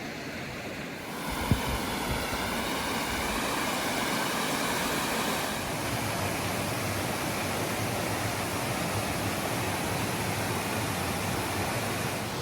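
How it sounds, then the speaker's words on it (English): Steady roar of a waterfall, a dense continuous rush of falling water that fills the whole stretch without pause. "There's another one of the waterfalls in this general area"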